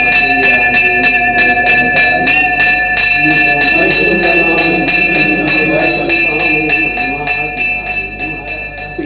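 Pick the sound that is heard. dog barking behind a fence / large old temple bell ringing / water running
large old temple bell ringing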